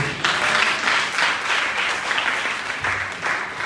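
Church congregation applauding at a service: sustained, dense clapping from many hands that swells and dips in waves for several seconds, loud and close, with no speech over it.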